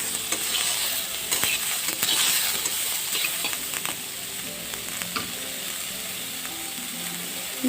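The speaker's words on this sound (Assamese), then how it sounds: "বেছি টাইম ভাজিব নালাগে, খুব বেছি 2 মিনিটমান সময় এনেকৈ লেৰেলা পেলাই ল'লেই হ'ল" Plantain peel stir-fried in a pan for an Assamese chutney gives a steady close sizzle, with scattered scrapes and clicks from the stirring utensil throughout.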